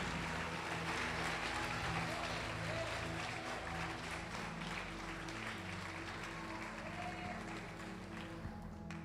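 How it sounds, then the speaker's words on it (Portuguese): Church congregation applauding during a service, a faint, steady wash of clapping from a large room with a low hum and some voices underneath. "Pode aplaudir o Senhor Jesus e glorificar"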